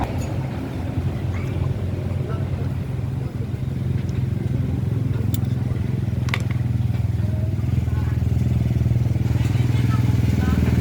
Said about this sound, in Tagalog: Ngayon tatry natin pagka pinaandar kung isang sipa lang siya.